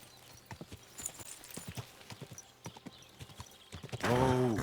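Horse hooves clip-clopping in the video game Kingdom Come: Deliverance II, a steady walking rhythm of close hoofbeats, ending in a loud whinny.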